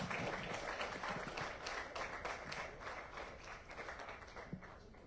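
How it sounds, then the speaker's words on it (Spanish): An audience at a panel event claps for a cultural association's speaker, a modest round of scattered individual claps, fairly faint and distant, tapering off over a few seconds. "Un aplauso, por favor."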